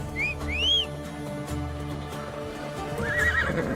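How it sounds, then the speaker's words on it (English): A horse in Assassin's Creed Odyssey whinnies in two quick high squeals, with hoof clip-clop and a faint game soundtrack beneath, then neighs again more softly at the end. "Where's my horse?"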